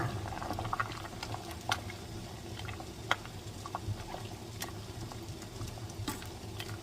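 Curry broth with bamboo shoots boils in a pot, a faint, steady bubbling with small pops and ticks, heard close and alone.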